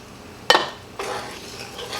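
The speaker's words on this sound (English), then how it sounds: "Add those in, give it a stir" A spoon clinks against a skillet as drained black beans are stirred into an enchilada skillet dinner, with one sharp metallic knock followed by a scraping, shuffling stir. Close and moderately loud, no talk.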